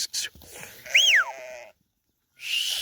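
Sheep in a flock of pregnant ewes give a single clear, close bleat with a rising-falling wavering tone, followed by a short pause and then broader rustling noise.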